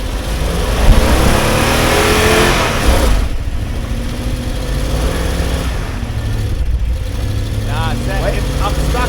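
Off-road truck stuck on an obstacle at an overland camp gathering, its engine loudly revving and easing near the listener, with voices talking over the engine noise.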